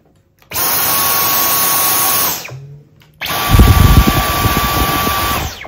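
Dyson V10 and V11 cordless vacuums run at medium power one after the other, each a loud, steady motor whine with a high tone. After a brief pause the second starts, sounding fuller and heavier in the low end.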